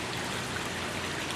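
Water from an aquaponic system trickles down through a cinder-rock grow bed and drains back into the fish tank, making a faint, continuous dribbling and splashing close by, with no talking.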